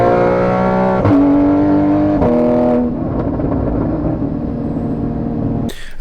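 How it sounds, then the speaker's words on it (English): A Porsche in sport mode revs with a rising, tonal exhaust note, then settles into burbling drone, with a sharp pop or crackle near the end; close and loud, no talking. "And then now we're in sport mode. You can hear some more burbles."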